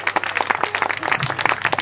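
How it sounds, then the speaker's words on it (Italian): Audience at a political list presentation gives applause for a candidate: many hands clapping in a lively, uneven patter of distinct claps, moderately loud and sustained throughout, with no speech over it. "inviterei a fare un applauso un po' più convinto"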